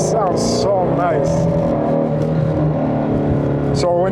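A 2019 Ford Mustang GT350 R V8 engine running with a steady, loud drone that swells and falls in revs, with a person talking over it throughout.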